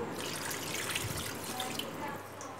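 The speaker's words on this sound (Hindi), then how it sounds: "और अब मैं इसके अंदर ऐड कर दूंगी पानी" Water pours steadily into a bowl of raw chicken wings with vinegar during marinade prep in a home kitchen, a continuous splashing trickle, close and fairly quiet.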